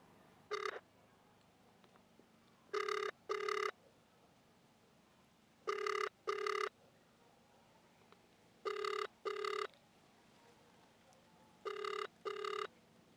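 Telephone ringing on an outgoing call: five double rings spaced about three seconds apart, each a pair of short buzzy bursts, heard clearly over a quiet line hum.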